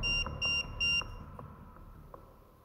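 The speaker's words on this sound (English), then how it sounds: "Are you making the EMF go off?" An EMF meter beeps during an overnight ghost hunt at Seaview Asylum: three sharp electronic beeps in quick succession, then fainter lingering tones in a quiet room.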